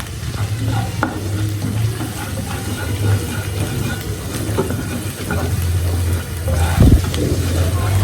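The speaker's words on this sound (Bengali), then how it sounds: "মশলাটাকে একটু ভালো করে কষাতে হবে" Spice paste of turmeric and chilli powder sizzling as it is stir-fried with prawns and taro stolons, a loud steady fry with a low hum underneath and a sharp clatter near the end.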